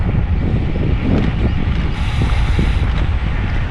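Boats and water vehicles speeding past on open water, a steady broadband rush of engine and hull noise with heavy wind buffeting the microphone throughout, loud and continuous with no talk.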